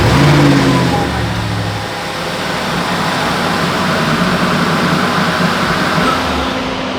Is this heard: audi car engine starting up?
yes